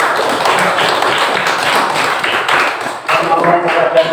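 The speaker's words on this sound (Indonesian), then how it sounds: "Ya, tepuk tangan untuk kelompok kita." A primary school classroom breaks into group clapping for a student team, dense and continuous close hand claps with some taps and voices mixed in, briefly dipping before resuming.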